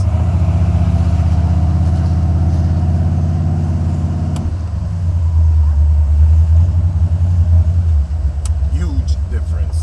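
A Stage-1 Buick 455 Regal-T engine runs with a steady low rumble, the tone deepening and swelling partway through, loud and close, while someone talks over it.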